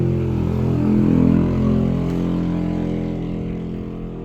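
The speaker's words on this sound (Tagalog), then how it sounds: "Dagko kay tingog ang mga motor anak ay." Loud motorcycle engines rumble steadily nearby, a dense low drone with a slight swell as the bikes pass, no voices over it.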